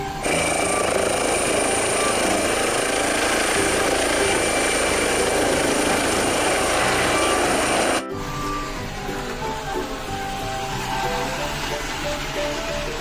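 Helicopter, likely a toy, gives a steady loud whirring rotor chop with a high whine for about eight seconds, then cuts off abruptly and gives way to quieter jumbled mechanical noise.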